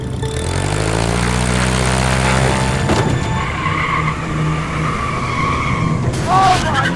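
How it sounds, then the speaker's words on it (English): A Mario Kart race car revving hard at full throttle with its rear wheels off the ground, a loud sustained engine roar with rising harmonics, then a rougher burst of noise near the end. "That will allow Gavin to give the car as much gas as possible without actually moving it"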